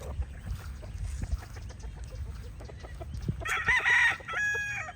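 Roosters crow among gamefowl such as Kelso, Gilmore Cross and Yellow Legged Hatch breeds, with clucking and rustling up close, then one clear crow late in the clip.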